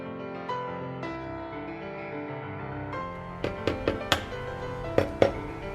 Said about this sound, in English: So that's the sound of freshly baked bread with a lovely crust.